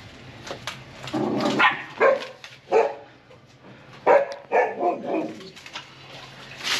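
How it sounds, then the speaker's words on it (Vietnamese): Dogs at a home in Ca Mau, Vietnam, bark in a run of short, sharp bursts, some close together, with quieter gaps between them. "Sủa cái gì?"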